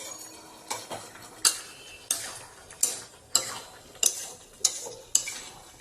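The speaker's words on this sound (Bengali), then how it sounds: "এখন খালি মাংসটা কষিয়ে নেওয়া" Duck meat sautéed in a pan, a utensil scraping and clinking against the metal roughly every half second in a steady rhythm, with a soft sizzle running underneath, close and moderately loud.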